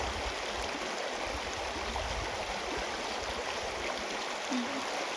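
A mountain stream in the hills of Chiang Rai flows steadily over rocks where fish are caught, a constant rushing wash with no clear breaks.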